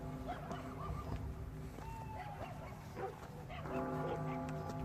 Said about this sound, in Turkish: Buralarda baya köpek var galiba